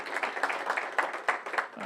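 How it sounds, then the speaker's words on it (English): A university audience applauds Chancellor Sarah Jackson at a class session with Vice President Mike Pence. The clapping is soft and somewhat distant, rising and falling in brief repeated swells. "a round of applause for Chancellor Sarah Jackson again, for your hospitality, your vision for this series"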